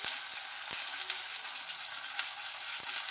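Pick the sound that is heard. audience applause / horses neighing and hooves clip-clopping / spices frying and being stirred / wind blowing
spices frying and being stirred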